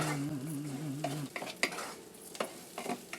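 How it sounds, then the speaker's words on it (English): Chicken broth and rice being stirred in a cooking pan, with a low sizzle under a few short scraping and clinking strokes of a utensil, close and fairly quiet; no talking. "Stir this up."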